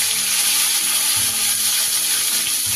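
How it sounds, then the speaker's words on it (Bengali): Cauliflower florets fry in hot oil in a pan just used for potatoes, giving a loud, steady, close sizzle that holds without a break and has no voices over it. "এবার এই তেলে আমি ফুলকপিগুলো দিই"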